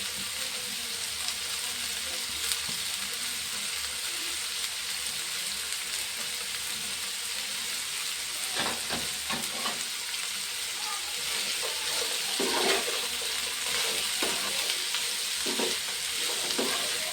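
Small pieces of ridge gourd fry in a drop of oil in a pan, a steady close sizzle with scattered crackles and occasional scraping stirs throughout.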